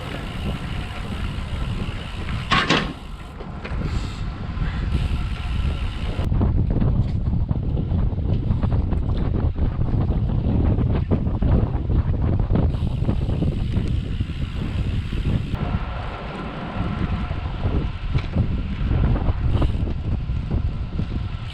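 Strong headwind buffeting a microphone on a bike ride during an ultra-distance cycling event, a loud, gusty rumbling roar that surges and eases throughout, with no talking.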